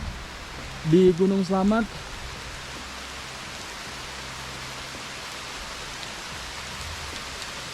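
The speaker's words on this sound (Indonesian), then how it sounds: "Kedapatan hujan lagi, Brad," Steady rain hisses across a foggy pine and shrub trail on Mount Slamet, an even, broad wash of falling water throughout, with a voice speaking briefly near the start.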